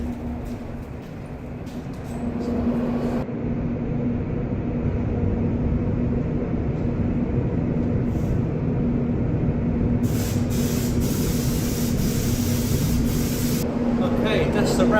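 Spray gun laying Raptor bedliner coating on a Mitsubishi FTO, a loud continuous airy hiss over a low steady hum, brightening in spells toward the end, with no voices.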